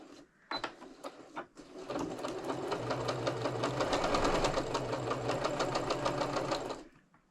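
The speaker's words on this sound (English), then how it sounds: "we are just going to put this under our machine and sew like a 1/4 inch seam allowance" A sewing machine stitching a quarter-inch seam through quilt-as-you-go fabric: a few short start-up bursts, then a steady, fast, close mechanical whir and rhythmic needle clatter for several seconds before it stops.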